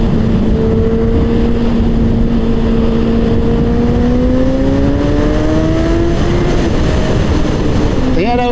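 Honda CBR 600RR motorcycle ridden at high speed, heard from on board: a steady engine whine that climbs slowly in pitch under heavy, constant wind roar, ending in a sharp rising rev.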